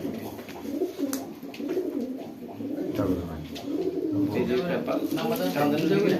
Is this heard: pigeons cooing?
yes